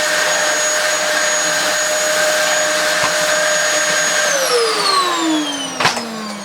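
A free secondhand vacuum cleaner runs with a steady, loud motor whine that holds its pitch, then drops in tone as it starts to wind down near the end.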